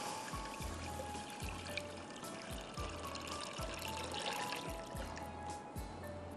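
Water poured steadily into a pot while cooking Szechuan soup with stock cubes, a continuous trickling stream with soft repeated low knocks underneath, close and moderately loud, no talking.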